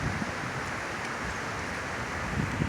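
Strong wind of 40 to 60 mph gusting at Allatoona Lake, a steady, dense roar of rushing air with surf-like washing, no voices.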